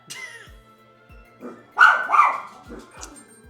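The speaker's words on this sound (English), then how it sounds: "What are you barking at?" Indoor dogs barking in a few sharp bursts, close and loud, with quiet gaps and faint knocking between.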